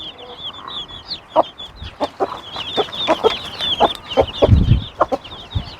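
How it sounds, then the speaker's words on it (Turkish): Young chicks cheep in rapid, high repeated peeps close by, mixed with a hen's low clucks and scattered soft knocks, with no one speaking. "İşte burada da bizim civcivler"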